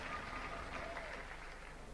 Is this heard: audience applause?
yes